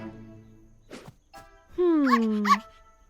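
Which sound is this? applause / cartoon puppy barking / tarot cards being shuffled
cartoon puppy barking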